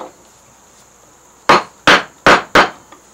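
Four loud, close strikes of a carving gouge driven into wood while cutting strapwork, landing in a quick, slightly uneven rhythm after a quiet pause, over a faint steady high-pitched hum with no talking.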